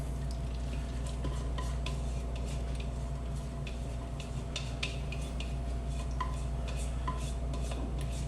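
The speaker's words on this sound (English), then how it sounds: "So now to the skillet, we're going to add the eggs that we just whisked up." Whisked eggs hit a hot skillet for a breakfast frittata, making a steady, close sizzle with scattered light clinks of a utensil against the pan and no talking.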